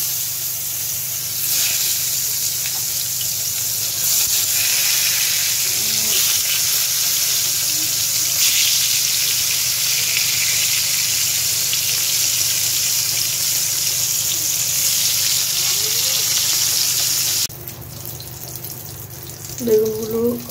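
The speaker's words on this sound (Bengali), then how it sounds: "তেলটা গরম হয়ে গেছে, বেগুনগুলো ছেড়ে দিচ্ছি।" Eggplant slices sizzle and spit in hot oil, a steady close frying hiss that runs without a break and then drops off slightly near the end, where a brief voice cuts in.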